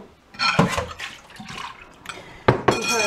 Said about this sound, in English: I'm just about to rinse out Tara's hair.